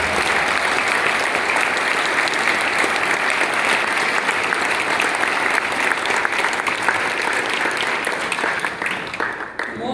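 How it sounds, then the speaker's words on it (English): An audience at an event applauds a woman guest who runs an equine therapy program for veterans, a dense, loud, sustained ovation lasting the full ten seconds and tapering slightly at the end. "So let's give her a round of applause."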